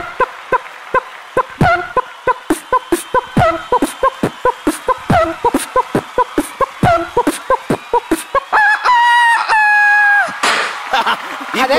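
A comedy performer at a TV awards show imitates chicken clucks as a DJ act, voicing a fast, loud run of sharp rhythmic beats that gives way to squawking, pitched cackles near the end.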